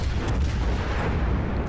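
Cruiser guns fire at a battleship in the World of Warships naval combat game, a dense continuous rumble of heavy gunfire and booms that fills the whole moment without any voices.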